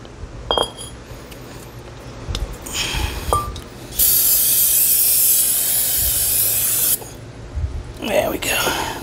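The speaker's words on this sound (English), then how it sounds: "now I'm just gonna spray this with a little brake clean to get all that dust out of there" A steady, loud aerosol hiss of brake cleaner sprays for about three seconds into a golf cart's rear brake, preceded by small metallic clinks and handling noises nearby.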